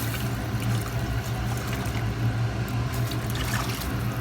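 Water pours steadily into a pan of Tamil fish gravy with a continuous trickling, splashing sound, close and fairly loud, with no talking.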